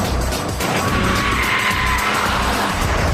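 A Lotus Carlton saloon is driven hard around a test track. Continuous loud engine and road roar comes with faint tyre scrub throughout, and there is no speech.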